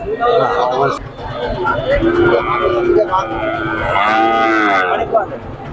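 A cow lets out loud, drawn-out moos close by at a cattle market in Gopalganj while several people chatter around it.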